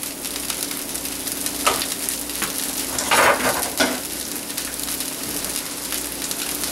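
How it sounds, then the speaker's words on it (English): Spinach wilting in hot oil in a pan gives a steady, close sizzle of moderate level, broken by a few brief louder bursts of crackle and stirring about midway through. "A little bit more oil, because now I'm going to add in my spinach."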